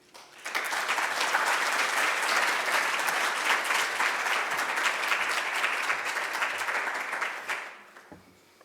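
An audience at an architecture lecture applauds to welcome the lecturer Vo Trong Nghia, a dense, even burst of clapping lasting about seven seconds before fading out.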